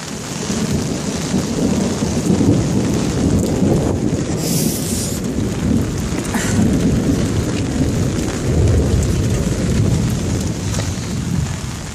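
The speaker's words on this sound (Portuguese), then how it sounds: "tá chovendo muito" Heavy rain pours steadily during a thunderstorm, with low rolling thunder running through the roar and some wind buffeting the microphone. The sound is loud and continuous, and no voices are heard.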